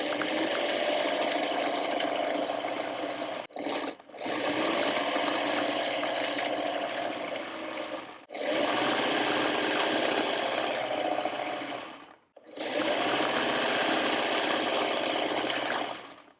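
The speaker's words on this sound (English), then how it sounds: "we're going to take these to our sewing machine and stitch 1/4 inch on either side of that line" Electric sewing machine stitching quarter-inch seams through fabric for a Dutchman's Puzzle quilt block, a fast steady whir running in four long bursts separated by short pauses.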